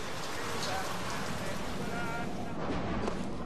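Rain in Bioshock Infinite, a steady, even wash of falling rain hissing over surfaces with no breaks, continuous and fairly close with no distinct drops standing out.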